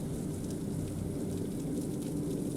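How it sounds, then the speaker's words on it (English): Steady rain falls in a dense, even hiss that holds at a constant level throughout, with no voices or other sounds standing out. "The rain continues to fall steadily"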